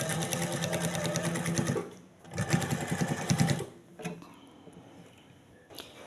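A sewing machine runs in two close bursts of rapid, even stitching while topstitching a baby jumpsuit, then stops and leaves quieter handling and rustling of fabric, with one faint short whir near the end.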